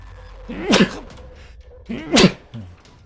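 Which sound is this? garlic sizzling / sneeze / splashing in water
sneeze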